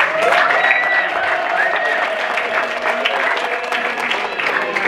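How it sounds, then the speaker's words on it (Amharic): At a graduation ceremony, high, wavering ululation rings out over steady applause from a crowd, loud and continuous throughout. "እልልታ ማዓሾ"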